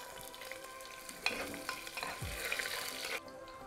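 Peeled garlic and ginger frying in a pan with whole spices such as cinnamon and dry red chilies, heard as a close, steady sizzle with stirring scrapes and a few brief clatters, with no talk.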